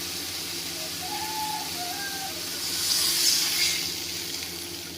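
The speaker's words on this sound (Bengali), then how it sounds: "এই পর্যায়ে দিয়ে দেওয়া হচ্ছে পরিমাণ মতন জল" Water is poured into a pan of fried spice paste for a Bengali ridge gourd and fresh pond fish curry, raising a steady broad hiss and sizzle that swells to a louder steamy burst midway before easing.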